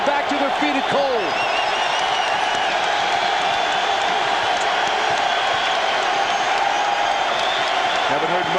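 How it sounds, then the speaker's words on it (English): A packed basketball arena crowd roars at Maryland's Cole Field House during a 1997 college game between Duke and Maryland, loud and sustained after a shot ties the score at 64, with voices and a ball bounce buried in the din. "The crowd's in it. That shot brings them back to their feet at Cole."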